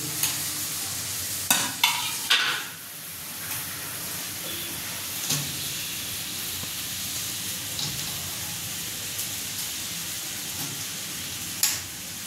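Onion and chilli frying in a pan, softened with a sprinkle of salt, giving a continuous moderate sizzle broken by a few sharp stirring clicks and scrapes, no talking.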